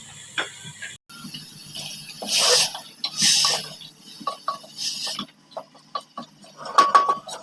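Chickpeas and diced potatoes in a spiced curry are stirred in a pot, giving scattered metallic scrapes and clinks of a spoon against the pot in irregular bursts.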